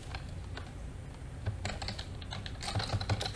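Rapid, uneven keystrokes clatter on a computer keyboard while text is entered into a drawing program, with brief pauses and a louder burst of clicks near the end.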